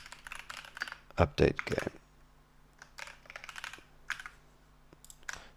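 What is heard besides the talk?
typing on a computer keyboard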